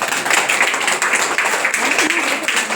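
Audience applause at a summer camp closing ceremony: a sustained, dense wash of many hands clapping steadily throughout, loud and close, with no pauses.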